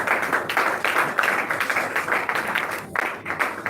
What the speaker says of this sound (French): tout le monde est déjà en train de s'applaudir le fait d'être là